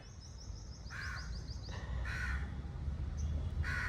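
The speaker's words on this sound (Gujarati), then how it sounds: "કાગડા પણ કાવ કાવ કહી રહ્યા છે" Crows caw outside during a dry spell awaiting rain, several harsh calls in short bursts from nearby birds, with a faint rapid chirping bird early on and steady low background rumble, no voices.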